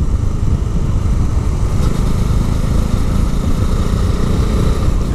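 A Bajaj Dominar 400 motorcycle engine drones steadily while the bike descends a curvy mountain road, a continuous close, loud rumble with heavy wind noise and no pauses.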